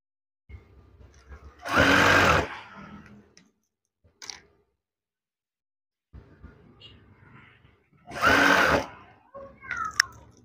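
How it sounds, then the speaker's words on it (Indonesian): Sewing machine stitching fabric runs in two short bursts of about a second each, separated by quiet handling noises and a few soft clicks, close and clear. "Perhatikan, saya akan menjahit ini."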